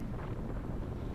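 Gusty wind rumbles low and steady against the microphone during an amateur UFOLEP third-category cycling race at St Romain, with no voices.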